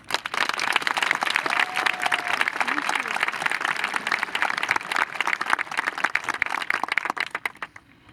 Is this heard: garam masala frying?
no